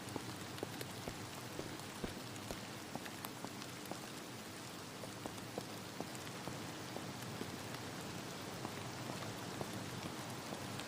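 Steady rain in the hardcore survival video game Vein, a soft, continuous hiss of falling drops with faint scattered pattering on surfaces, heard alone.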